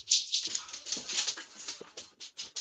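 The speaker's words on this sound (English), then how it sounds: "The dogs are going nuts." Excited dogs in a house whimper, yip and whine in quick high-pitched bursts, fairly close and continuous, with panting between the cries.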